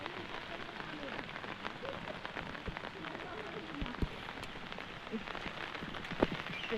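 Steady rain falls on the surface of a Konkan farm field, a dense continuous patter with occasional louder drops, close and even throughout.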